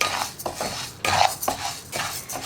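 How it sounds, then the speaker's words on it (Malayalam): Rice dry-roasted in a pan on a low flame is stirred briskly with a metal spoon. It gives repeated close scraping and clinking strokes against the pan, with no voices. "നമുക്ക് ആദ്യം നമ്മുടെ അരി ഒന്ന് വറുത്തെടുക്കാം."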